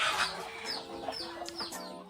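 About 150 hens and roosters on a small poultry farm with an open shed cluck and squawk in a busy, overlapping chorus, several close calls rising over a murmuring flock throughout.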